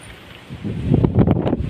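Wind gusting across an open rooftop, a rough rushing noise that swells and grows louder after a quiet start, buffeting the microphone, with no voices.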